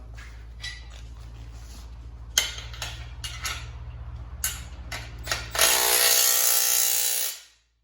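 Nuts on a Harbor Freight 2-ton engine hoist, 22 millimeter, are tightened with a ratchet in bursts of close clicking over a low steady hum, ending in a longer rasping run before the sound cuts off.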